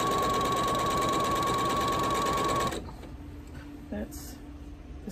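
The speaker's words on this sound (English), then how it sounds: "Stitching this with a fourth of an inch seam allowance, of course." A sewing machine stitching a quarter-inch quilt seam runs with a steady, close mechanical whir for under three seconds, then stops. Quiet handling noises follow.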